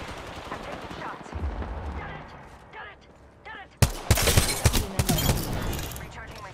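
Rapid automatic gunfire erupts in the shooter game Apex Legends, loud bursts of shots after quieter in-game ambience and scattered effects, with a voice speaking under the action.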